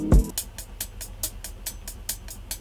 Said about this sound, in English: layer a live hi-hat with a programmed hi-hat